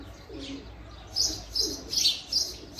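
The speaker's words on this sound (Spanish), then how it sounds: "Aquí hay una paloma. Las palomas andan por aquí" Doves call beside the Jordan River, a series of soft repeated coos and chirps in short regular bursts over a quiet outdoor hum.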